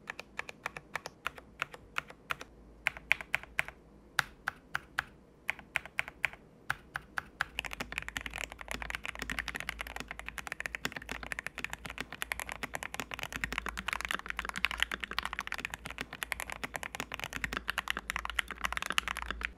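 Typing on an MK870 custom mechanical keyboard with a polycarbonate plate and MT3-profile keycaps, close and alone: sparse separate keystrokes at first, then a dense, steady rattle of fast continuous typing.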